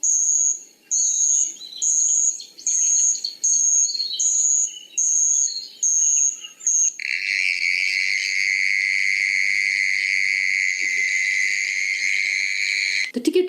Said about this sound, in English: It was all lonely and scary, except for the crickets chirping